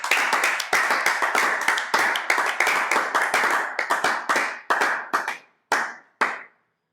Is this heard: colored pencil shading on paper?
no